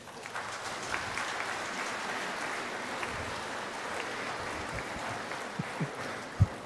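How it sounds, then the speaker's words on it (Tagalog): A church congregation at a Filipino evening Mass claps together in a moderate, continuous wash of applause heard from a distance, with a few louder thumps and knocks near the end. "pumalakpak ng malakas?"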